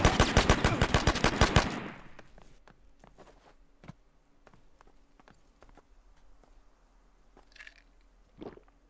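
An automatic shotgun fires a rapid, loud burst of about a dozen blasts in a Last Man Standing video game, followed by scattered fainter shots and footsteps in the distance.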